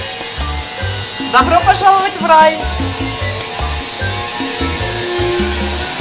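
Construction work behind a thin hotel room door in Phuket, Thailand, near Kata Beach: rhythmic low thumps and tool noise keep going under a person talking, with a brief whining tool burst near the middle.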